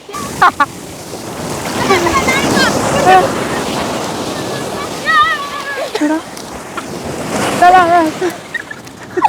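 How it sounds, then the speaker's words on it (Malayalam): Rough ocean surf at a beach, waves rushing and breaking in a continuous close roar with wind buffeting the microphone, while people talk and call out over it throughout. "ഇവിടെ കുറച്ച് ഡേഞ്ചറാണ് കേട്ടോ. നല്ല തിരമാല."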